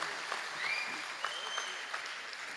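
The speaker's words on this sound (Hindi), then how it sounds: "एक बार तालियां मिलके बजा दो," An audience applauds at a Hindi comic poetry gathering (hasya kavi sammelan) celebrating Maharaja Agrasen Jayanti in Dadri, a steady, moderately loud wash of clapping from a crowd, with a voice faintly heard through it.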